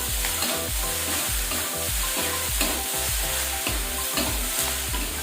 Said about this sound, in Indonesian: Kita aduk lagi guys.